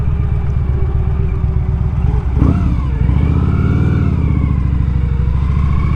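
A 2003 Victory Vegas motorcycle pulls hard in first gear, its loud, close V-twin engine rumbling and rising in pitch through a steady throttle run.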